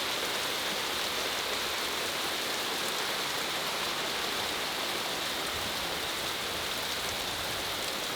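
Heavy hurricane rain from Ida pours down in a dense, continuous hiss, steady and loud throughout with no pauses or voices.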